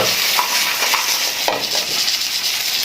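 Food sizzles in butter in a hot pan while being stirred, a steady close frying hiss broken by scraping strokes of a utensil against the pan, with no talking.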